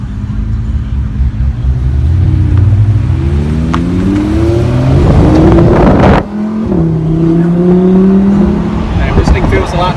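A 2017 Lamborghini Huracan Spyder LP610-4 revs hard through rising gears, its engine note climbing in loud sweeps, with a sharp break at a shift before pulling again, heard up close from inside.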